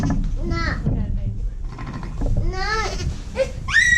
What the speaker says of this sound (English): Don't let the sheep out, Zara.